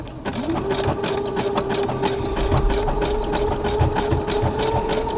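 Close, loud sewing machine running continuously, decoratively topstitching along a serger seam, with a steady motor whine and rapid needle chatter throughout.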